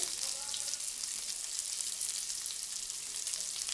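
Mint, curry leaves and coriander sizzling in hot oil in a pan while cooking jeera rice, a steady bright crackling fry with faint stirring and a quiet voice now and then.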